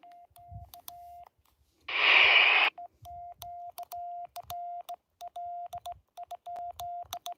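A Quansheng handheld radio keys out steady beeping CW tones in short bursts and gaps, broken once by a loud burst of static, with faint low thumps underneath.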